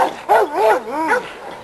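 Pistol, a yard dog, lets out a few close, short whining barks and yelps in a rising and falling pattern.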